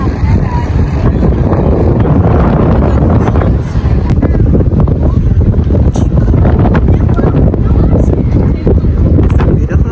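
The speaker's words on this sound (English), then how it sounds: "it's windy, y'all." Strong wind at the Eiffel Tower buffets the microphone with a loud, constant roar for the full ten seconds, with faint voices under it.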